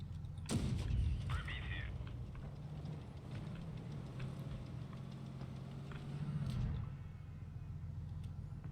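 A single heavy tank cannon blast rings out early in World of Tanks Blitz from a Titan-54d, then a steady engine rumble drones on with a smaller thud near the end.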